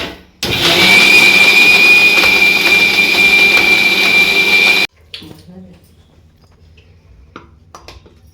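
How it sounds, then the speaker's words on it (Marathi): Kitchen mixer grinding Goan green chutney with water: a loud, steady high whine that runs for about four seconds, then stops abruptly, leaving quiet clinks and faint handling sounds. "उदक घालून वांटपाक."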